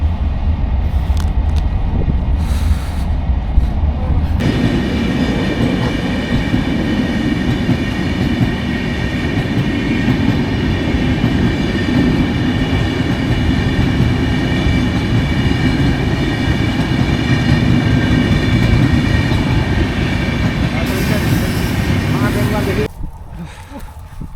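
Train at the site of the Ganeshwari Express accident: a loud, steady rail rumble rises suddenly after a few seconds, holds for almost twenty seconds, then cuts off, with faint voices underneath.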